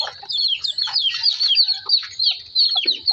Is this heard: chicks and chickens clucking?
yes